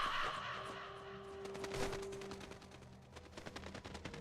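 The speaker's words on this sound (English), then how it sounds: "M61 Vulcan cannon." Rapid bursts of M61 Vulcan cannon fire from the video game Metal Gear Solid: The Twin Snakes, a dense rattling stream of shots with a steady tone beneath and no talk.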